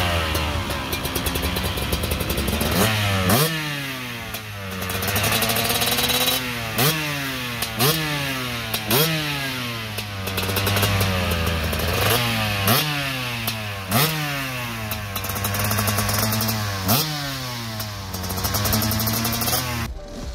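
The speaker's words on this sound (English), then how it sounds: "they got to ride the all-new 2021 Beta 300 RX two-stroke" A 2021 Beta 300 RX two-stroke motocross bike being ridden, its engine revving up and down in repeated rising pulls between quick gear changes, loud and steady throughout with no talk.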